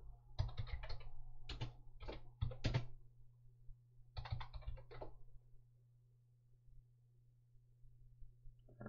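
Bursts of quick typing on a computer keyboard, close and fairly quiet, in short clattering runs separated by pauses over a steady low hum.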